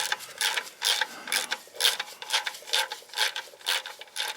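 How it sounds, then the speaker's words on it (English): A wrench cracks loose the oil filter head to sump pipe fitting on a Jaguar E-Type 4.2, giving repeated close ratcheting and scraping metal clicks in an uneven rhythm. "I'm going to take these off and crack this loose."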